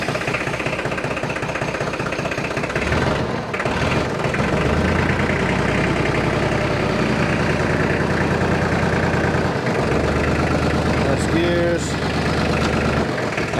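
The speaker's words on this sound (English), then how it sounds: "Yeah, we'll start with Dave's tractor." A tractor engine running on a farm, a loud steady rumbling idle with a low chugging pulse throughout, with people talking faintly over it.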